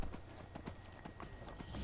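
Horse hooves clip-clop steadily in Skyrim while a rider travels on horseback, a regular rhythm of soft thuds that runs unbroken through the whole stretch, close and moderately loud.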